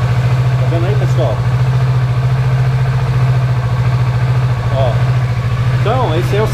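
A cold motorcycle engine idles high at about 2000 rpm while warming up, a loud, steady, close throb that runs throughout as someone talks over it.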